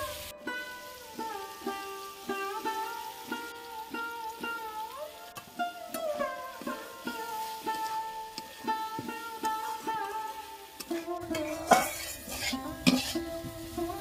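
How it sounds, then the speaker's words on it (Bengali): Masoor dal being stirred with fried mixed vegetables in a pan, with a long run of rhythmic scraping and clinking strokes of a spoon against the metal over a light sizzle, close and fairly loud, with busier clattering near the end. "মসুর ডালটা দিয়েও সবজির সঙ্গে ভালো করে নেড়ে চেড়ে মিশিয়ে নিয়েছি।"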